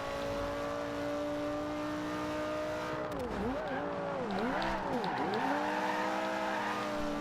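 A Lamborghini engine in the racing game Forza Horizon 2 drones steadily at a constant pitch, then revs rise and fall in several quick swoops before settling back into a sustained hum.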